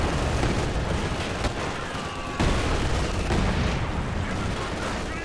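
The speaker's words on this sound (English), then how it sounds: "Oh, he did bring in the heavy mortar barrage." A heavy mortar barrage in Company of Heroes 2 pounds away in a dense, continuous wash of booming impacts and crackling gunfire, loud and sustained with a sharp burst partway through.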